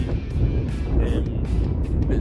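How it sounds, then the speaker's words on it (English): Strong wind roars and buffets the microphone outside a football stadium before a St Johnstone v Dundee match, a dense, constant low rumble close up for a couple of seconds. "It's very windy."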